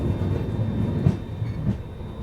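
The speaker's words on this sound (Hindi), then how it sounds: "लगभग 14 मिनट रुकने के बाद अभी अपनी ट्रेन निकल रही है मऊ जंक्शन से" A passenger train pulls out of Mau Junction, its carriages rolling with a low, steady rumble and soft wheel clacks, heard from on board.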